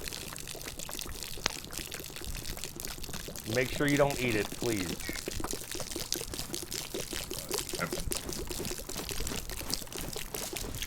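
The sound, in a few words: water pouring sound glitch from canteen in DayZ video game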